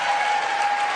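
A large audience claps at a political speech, with a dense, even roar of applause sustained throughout and no voices above it.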